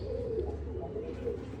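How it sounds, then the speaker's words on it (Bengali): Andhra pigeons kept in pairs coo softly nearby, a low rolling coo repeated in a short, faint burst with no talking. "জোড়া বসানো আছে পায়রা"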